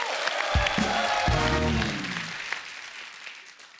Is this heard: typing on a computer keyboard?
no